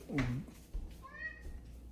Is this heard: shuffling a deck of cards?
no